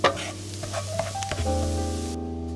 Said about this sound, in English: Put a tablespoon of butter on a preheated frying pan and add the chopped garlic